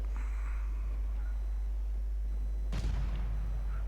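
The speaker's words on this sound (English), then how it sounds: "Ooh, nice explosion." A ship explodes in a naval battle video game, a sudden booming burst near the end that follows a low, steady rumble of engine and sea.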